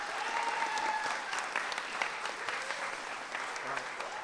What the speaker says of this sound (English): one more round of applause for all of our great students.